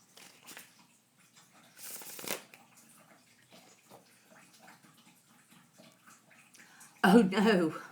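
Divination cards are shuffled in short bursts: a brief riffle early on, then a louder, closer flurry of shuffling at the end, with quiet pauses and faint movement between.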